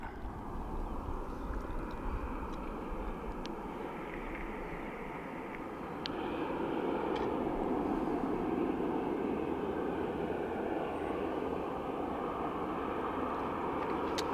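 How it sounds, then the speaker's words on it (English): A 17-year-old Airbus airliner approaches at Dublin Airport, its engines a steady broadband roar in the distance that swells a little louder partway through, with no voices. "we're just waiting for our 17-year-old Airbus to get a little bit closer"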